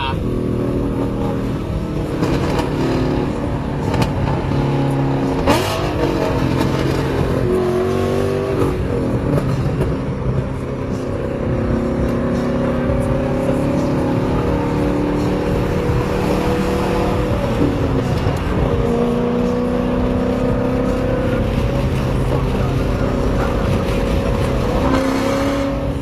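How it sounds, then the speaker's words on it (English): A car engine revs and shifts from second to third with a rev-matching blip, a loud continuous in-cabin drone with rising and falling engine tones, while people talk over it. "That's a rev match."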